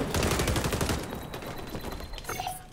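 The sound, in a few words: shotgun firing in XDefiant video game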